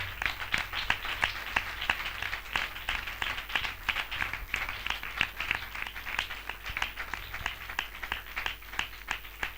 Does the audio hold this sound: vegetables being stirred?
no